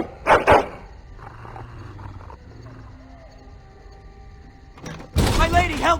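In the video game Dragon Age Origins, a dog snarls and growls in short loud bursts at the start, then a low rumbling growl runs quietly underneath before a loud harsh outburst at the end.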